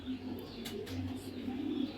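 Racing pigeons, black baby pairs from a club member's loft, coo in low, steady murmurs that run nearly throughout, with a faint higher chirp now and then.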